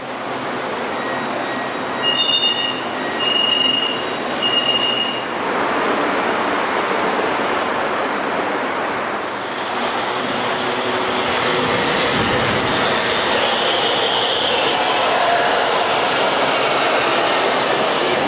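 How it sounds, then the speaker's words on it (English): A Klang Valley MRT train on the Sungai Buloh-Kajang Line in Kuala Lumpur rumbles steadily at close range, with a few short high electronic beeps early on and wheel squeal rising near the middle. No one speaks. "I'm on the Klang Valley MRT, the guiding light of Kuala Lumpur."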